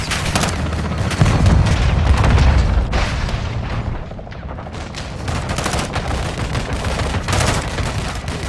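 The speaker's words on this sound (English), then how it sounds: "Taking belt-fed fire from beneath the tower." Sustained belt-fed machine gun fire in Call of Duty Modern Warfare II, a loud, dense stream of rapid shots with heavy booms and explosions underneath, continuous for several seconds.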